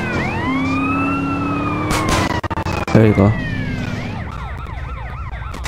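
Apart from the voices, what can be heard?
ambulance siren in video game Grand Theft Auto: San Andreas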